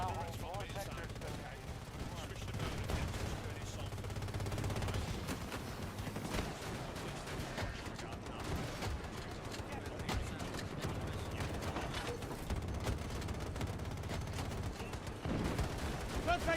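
Rapid bursts of video game gunfire, repeated volleys and scattered shots over a steady rumble, with voices talking over the action.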